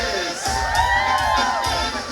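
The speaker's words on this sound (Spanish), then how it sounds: "El grito de las mujeres." Women in a wedding crowd shout together in a loud, sustained collective cry, high voices whooping over a thick crowd din and low music close by.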